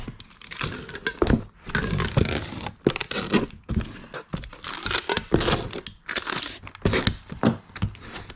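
Packing paper is crumpled and crinkled by hand while an item is wrapped for shipping, with loud, close bursts of rustling and crunching separated by short pauses.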